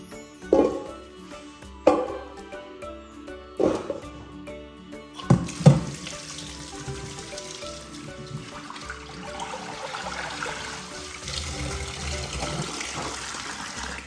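Ginger being washed under a running kitchen tap, a few splashes and knocks at first, then a steady stream of water gushing on, fairly quiet and close with no talking.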